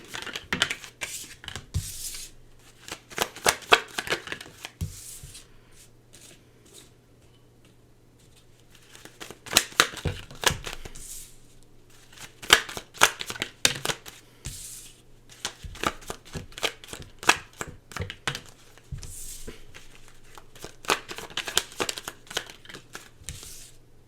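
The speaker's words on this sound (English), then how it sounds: "let me just pull some tarot cards here, and then we'll get into the reading." Tarot cards shuffled in repeated bursts of riffling and flicking, with quieter pauses between rounds over a steady low hum, close and fairly crisp.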